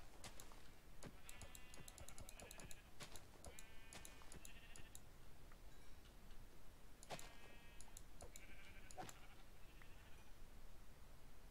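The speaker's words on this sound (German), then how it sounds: "ich muss doch noch mal ein paar unschuldige Schafe scheren" Sheep bleating in Minecraft, several short bleats in a few separate bursts, heard over a quiet background of keyboard typing and clicking.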